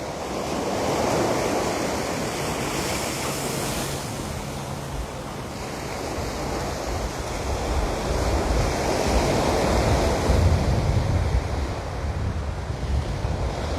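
Ocean surf breaking at Waikiki Beach, Hawaii, near a small point where the water dumps: a continuous broadband roar of waves with swelling surges and steady wind buffeting the microphone, no voices.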